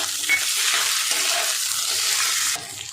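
Green peas fried and stirred with dal and oats in a pan give a loud, close, continuous sizzle with faint scraping, softening slightly near the end.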